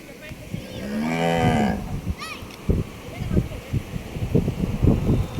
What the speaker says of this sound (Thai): ผมพอดีเจอ มาเที่ยวมาเจอนะครับเลยถ่ายฝูงวัวฝูงนี้ชมครับ